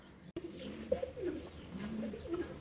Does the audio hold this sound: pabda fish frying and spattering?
no